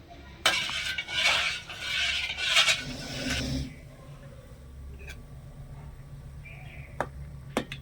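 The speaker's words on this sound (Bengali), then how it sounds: "এবারে নেড়ে ছেড়ে দুধটা একটু ফুটিয়ে নেব" Milk being stirred in a pot as it comes to a boil: a few seconds of busy scraping, spoon strokes follow, then quieter pot noise with scattered small ticks and clicks.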